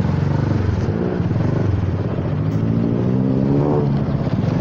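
Honda Forza 300 scooter engine with noisy valves, running steadily and loud with a continuous mechanical drone and faint ticking texture, rising slightly in pitch near the end, with no talk.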